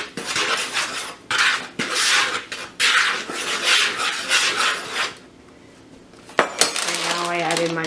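Pie ingredients for a French Canadian tourtière crust, flour with salt, being stirred in a bowl, scraping and clinking of a utensil against the bowl in bursts, then a pause and a few sharp knocks with a brief tone.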